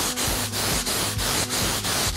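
A sheet of cheap MDF wood with a white latex or acrylic paint base coat is sanded by hand along the grain, making loud rhythmic rasping strokes about three times per second, close and steady.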